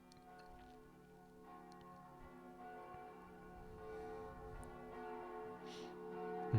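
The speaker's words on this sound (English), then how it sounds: "they're using some church bells to lead into the song" Church bells toll as the opening lead-in to a song, a steady ringing with a low hum under it that swells gradually toward the music.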